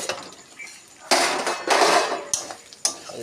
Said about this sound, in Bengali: ঢাকনাটা খুলে দিচ্ছি